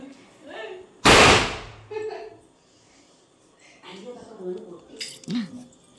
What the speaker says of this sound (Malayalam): ഗൈസ് ഇവിടെ അച്ഛനാണ് പടക്കം പൊട്ടിക്കുന്നത്